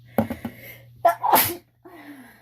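One loud, sharp sneeze bursts out near the microphone, set up by a few quick breathy catches and followed by a brief spoken voice.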